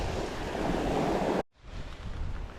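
Ocean surf rolls onto the Egmont Key beach, a loud broad wash of waves and wind that breaks off suddenly and then resumes at a lower level.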